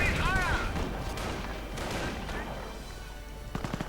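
Panzer IV tank cannon fire and explosions in a World War II strategy game battle, with several booming, rumbling blasts and scattered gunfire at mid distance under a commentator's voice.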